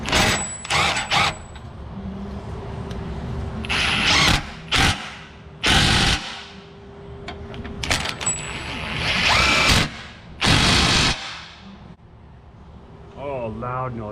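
An impact drill runs on bolts of a Yukon truck's frame cross member during an oil leak repair, firing in several loud rattling bursts of a second or two, separated by pauses and shop noise.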